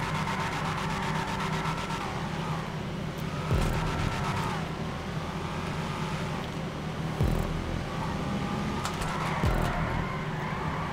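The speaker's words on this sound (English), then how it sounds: "It's a drift car!" A drift car in GTA 5 revs and roars continuously, its engine note rising and dropping sharply through several gear shifts, loud and close throughout, with faint talking underneath.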